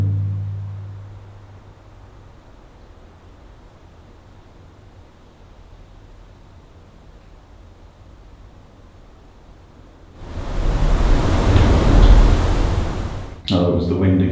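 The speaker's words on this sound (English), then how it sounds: "Oh, it was the wind again." Wind gusts inside a reputedly haunted bunker at night: a long quiet stretch of faint low rumble, then a sudden loud whooshing rush of air lasting a few seconds before cutting off and briefly returning.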